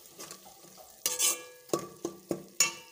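Chopped onions fry in ghee for a pumpkin curry, with a soft sizzle broken by several distinct spoon-against-pot knocks and scrapes at irregular intervals.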